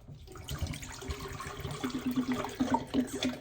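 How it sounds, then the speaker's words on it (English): Sediment-laden water pours out of a clogged fabric steam cleaner, a steady splashing, gurgling flow that grows louder and more sputtering toward the end, heard alone and close. "So let's pour it out"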